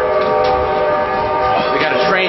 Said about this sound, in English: we got a train coming here.